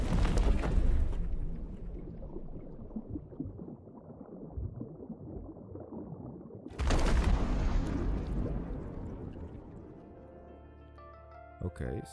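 Thermite ignites inside a steel-roofed structure in The Powder Toy, setting off a loud, sustained roaring burst with a second surge of crackling blast noise that slowly fades, voices talking underneath.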